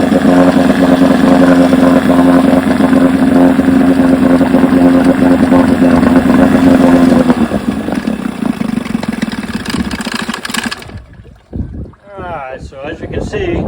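A vintage outboard motor with a freshly repaired magneto, spark plugs fitted, runs loud and steady close by for several seconds, then its drone drops and fades out, and a voice talks in the quiet that follows.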